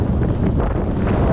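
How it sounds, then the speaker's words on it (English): Strong wind buffets the microphone outdoors while fishing for bonito, a loud, continuous low rumble that fills the short moment with no other clear sound. "It's quite windy today."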